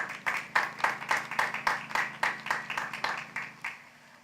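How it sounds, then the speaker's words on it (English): Rhythmic clapping from a sparse audience at a naturalization ceremony, about fourteen evenly spaced claps that fade toward the end, moderately near and with no talking over them. "So let's give marketing a round of applause."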